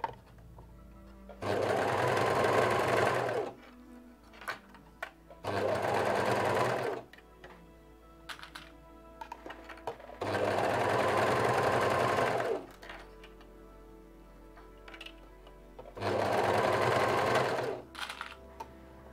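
Sewing machine stitching in four separate bursts of about two seconds each, with quiet pauses and faint handling noises between them, heard close up.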